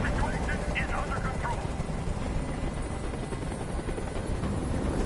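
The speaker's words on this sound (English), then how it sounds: "I can't stand that noise anymore. Tell that helicopter to get out of here." A helicopter hovers in the Detroit: Become Human video game, a loud, continuous rotor roar close by that holds steady throughout.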